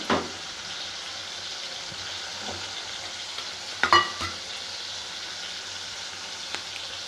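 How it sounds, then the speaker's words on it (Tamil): Tomatoes sauté in oil in a pan for homemade tomato pepper rasam, giving a soft, steady sizzle with a couple of louder stirring scrapes near the middle and no talk. "டொமேட்டோவை இது மாதிரி நல்லா வதக்கிடுங்க ஆயில்."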